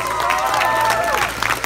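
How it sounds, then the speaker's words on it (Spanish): Guests at a quinceañera celebration applaud her brother, a short loud burst of clapping and crowd noise with voices mixed in. "Que se oigan fuerte los aplausos."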